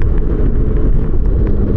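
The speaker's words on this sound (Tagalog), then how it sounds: "Katabingi tayo dito, ang lakas ng hangin, grabe." Strong wind in Batangas, Philippines buffets the microphone with a loud, continuous low roar and gusty rumbling, no talking.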